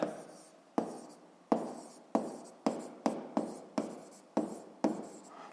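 Pen or pencil scratching across paper while a physics problem on pressure and Pascal's law is worked out by hand, in a run of about nine distinct strokes, close and clear with no talk.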